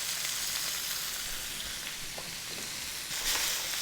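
Beef strips sear in a hot pan with a steady, loud, broadband sizzle, punctuated by a few faint pops and small stirring clicks, with no voices.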